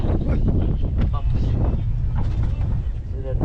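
Strong outdoor wind buffets the microphone with continuous rumbling gusts, while people talk faintly underneath.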